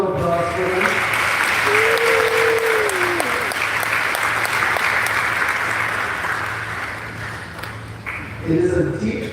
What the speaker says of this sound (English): Can I get one more round of applause for them?